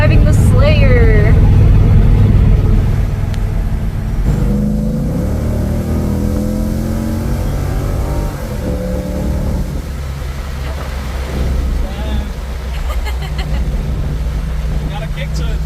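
A hot rod car engine accelerating hard, a loud, close rising roar that settles into a sustained mid-pitched drone, with people talking over it.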